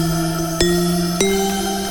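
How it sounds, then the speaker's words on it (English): Synthesized pluck patch built in Serum, with sustained tonal layers and two sharp plucked attacks landing roughly 0.6 seconds apart, clean and up close with no voices. "Okay, so this pluck, we're gonna make this right now. It sounds like this."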